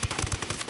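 Rapid automatic gunfire in Ghost Recon Wildlands, a quick burst of close, loud shots in an even rhythm lasting under a second.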